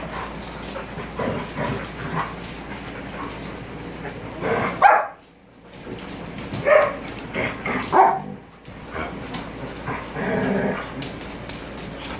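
Several dogs from a household pack play together indoors, giving bursts of barking, yips and growls at moderate distance with short pauses between outbursts.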